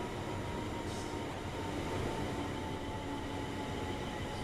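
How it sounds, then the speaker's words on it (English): A train in Train Sim World rumbles past as a steady, broad roar that holds at an even level throughout, with a faint metallic whine riding over the noise. "That was the train we passed."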